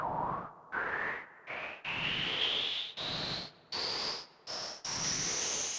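Synthesized white noise from a Sonicware Liven Ambient Ø in a series of repeated bursts separated by short gaps, with a filtered tone sweeping steadily upward in pitch across the bursts.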